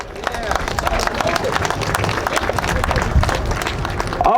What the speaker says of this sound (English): Everyone give a big round of applause to the healthcare heroes who are here today.